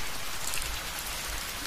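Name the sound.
rain falling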